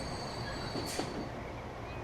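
Double-decker electric train in Transport Fever 2, a steady rolling rumble with a brief high squeal of wheels near the middle, moderately loud and continuous throughout.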